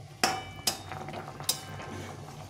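A utensil clinks against a cooking pot as fried eggplant and boiled potatoes are stirred into a raikhor fish curry, giving three sharp, close metallic knocks over a quiet background.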